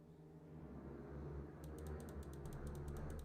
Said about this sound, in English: I'm just gonna keep clicking till something happens.